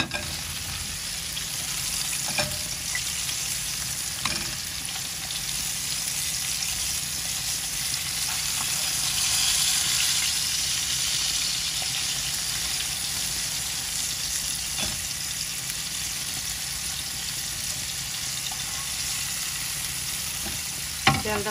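Fish frying in hot oil in a home kitchen, a steady close sizzle and crackle that runs unbroken, with occasional clinks and stirring knocks.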